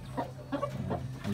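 A brooding hen sitting on ten eggs gives a few low, close clucks in quick succession over a steady background hum.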